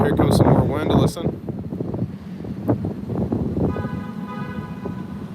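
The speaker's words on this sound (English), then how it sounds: "here comes some more wind. Listen." Strong wind gusts during a severe thunderstorm in Nashville, a steady loud rushing roar with buffeting on the microphone, heard outdoors under a tornado watch, with a brief burst at the start.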